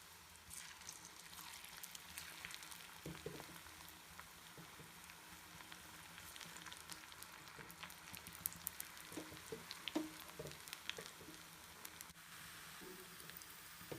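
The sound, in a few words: pakoda batter frying in oil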